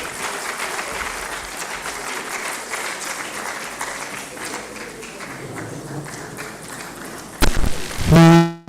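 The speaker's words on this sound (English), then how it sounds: "Let us keep clapping." Sustained audience applause after a keynote lecture at a university World Environment Day event, steady dense clapping from a large crowd that runs for several seconds before a louder burst of noise near the end.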